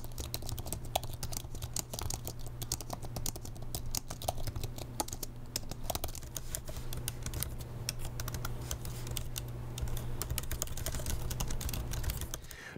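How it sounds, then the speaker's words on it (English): Continuous typing on an M4 Pro MacBook Pro keyboard, quick soft key taps in an irregular rhythm, close and fairly quiet, with no voices. "It's less clackety than the Magic Keyboard that I have on the Mac Studio."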